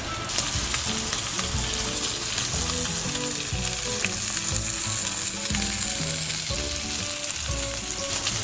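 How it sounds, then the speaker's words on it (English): A tomahawk steak sears in a hot pan, a loud, continuous sizzle and crackle with a low bubbling churn underneath, heard alone with no voices. "When you get a nice crust on there, go ahead and flip it and coat the other side."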